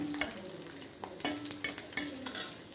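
Curry leaves are sautéed in a pan, with a continuous oily sizzle and a spoon stirring and scraping in quick, irregular strokes, some landing louder than others.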